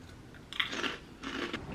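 Two crisp, close bites and crunches into ketchup-flavoured ghost potato puffs, a foreign snack, each followed by a short burst of crackly chewing.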